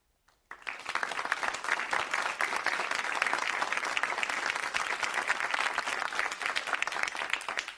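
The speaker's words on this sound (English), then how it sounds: "Those who believe yes, please applaud." A town hall debate audience claps loudly for about seven seconds, a dense, steady burst of applause that starts suddenly after a near-silent moment and holds strong until the end.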